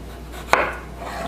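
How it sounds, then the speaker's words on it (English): One crisp chop of a knife cutting a cucumber into thin rings on a board, a single close tap against quiet background hum. "So you want to cut them as thin as you can."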